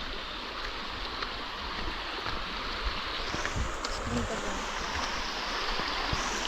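River in the Konkan countryside flowing steadily, a continuous moderate rushing wash of water with small splashes, faint and even throughout, no clear talk over it.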